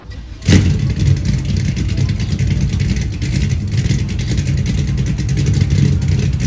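A Chevy Nova engine cranks and fires abruptly, then settles into a loud, continuous rough rumble with uneven revving, close by and with no talking over it.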